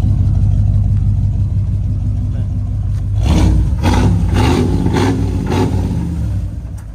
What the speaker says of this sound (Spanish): Aceleraron un poco para que pudieran escuchar a ustedes